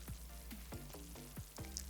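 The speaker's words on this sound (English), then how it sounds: "So I'm stirring my pap." A spoon stirs a thick pap (ogi) paste in a bowl, making soft, close scraping and squelching strokes in a steady rhythm of about four passes.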